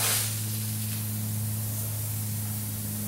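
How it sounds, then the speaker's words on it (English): A steady aerosol spray from a Rust-Oleum black spray paint can hisses continuously for about three seconds onto bike wheels, broad and airy, over a low electrical hum. "we're just going to use the black spray paint on the wheels"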